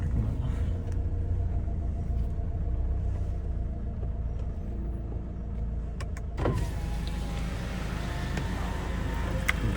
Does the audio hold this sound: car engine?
yes